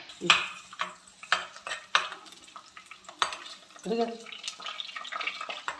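Spoon stirring boiled tapioca with onions in a pan in a home kitchen, a series of irregular scraping and clinking strokes close by, with soft sizzling between them.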